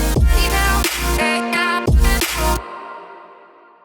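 Future bass drop with an electric guitar layer added over thick synth chords and pumping sub bass, two big sections of hits before the sound cuts off and a faint tail fades out.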